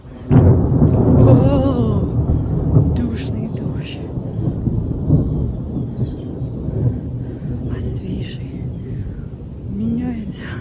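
Thunder rumbles loudly in a summer storm, a deep rolling peal that swells early and lingers, with rain around and someone talking over it.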